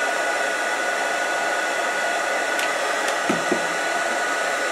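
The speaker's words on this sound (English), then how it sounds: "I have sung the praises of this 20-volt heat gun." A cordless 20-volt heat gun blows a steady, loud whoosh of hot air while shrinking heat-shrink tubing, with a few faint clicks and taps near the end and no talking.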